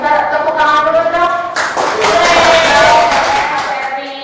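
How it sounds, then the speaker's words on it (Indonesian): Students clapping in a classroom, a steady burst of applause that swells partway through, with voices mixed in underneath. "Minta tepuk tangan dulu dong."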